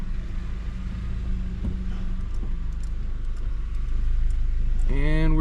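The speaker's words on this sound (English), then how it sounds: "Drove through a giant tree" A compact car creeps through a tunnel cut in a giant redwood tree, its low engine rumble steady and close, rising to a brief rev near the end, with a voice talking over it.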